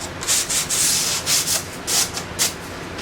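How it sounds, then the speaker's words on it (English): Sandpaper rubs back and forth on a wooden cabinet in short rhythmic strokes, close and clear, about seven passes in three seconds. "Just hit a little bit of sandpaper here"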